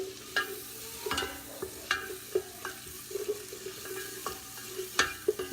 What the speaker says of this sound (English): we are going to stir this for about 3 or 4 minutes until everything gets